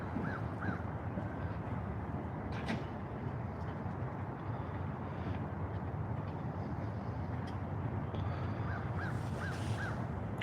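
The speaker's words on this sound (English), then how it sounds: "I can hear my crow buddies out here." Crows caw outside a courthouse in short bursts of two or three harsh calls, one group near the start and another near the end, over a steady wash of outdoor background noise.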